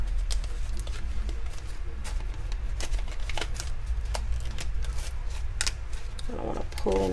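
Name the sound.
handling altered Rolodex card and envelope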